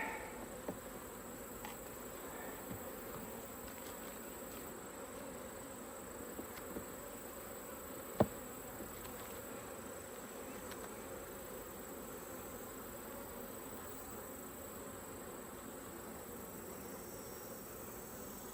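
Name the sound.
honeybees buzzing around a hive frame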